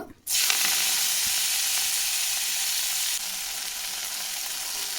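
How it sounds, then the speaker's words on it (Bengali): Greens hit hot oil with a sudden loud sizzle that settles into steady, close frying, slightly quieter toward the end. "এখন আমি শাক ভেজে নেব"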